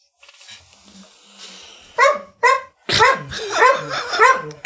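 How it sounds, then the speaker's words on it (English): A dog barks loudly and close by: two sharp separate barks, then a quick run of harsh, overlapping barks and yips with whining in between, heard alone without talk. "Goddamn dog."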